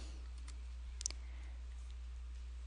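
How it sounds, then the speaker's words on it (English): A computer mouse button clicks once or twice, faint and close, over a steady low electrical hum in an otherwise quiet room. "Click on that button."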